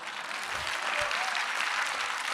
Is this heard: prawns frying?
no